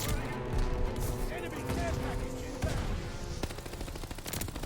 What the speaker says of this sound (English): when firing your weapon, it sounds really, really weak as compared to other sounds in this game